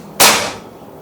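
A single sharp crack from a 500cc PCP bullpup air rifle fired during a chronograph test, loud and close, with a quick fading tail over a quiet background.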